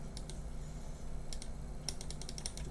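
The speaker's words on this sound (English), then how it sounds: "y'all hear that clicking, right?" A computer mouse clicks in short, sharp bursts: a few isolated clicks early on, then a quicker cluster near the end. The clicks are faint against a low background rumble.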